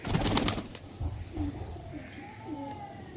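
Nearby pigeons coo softly and steadily in a loft housing breeding birds, with a burst of clatter and wing movement at the start and a low voice now and then.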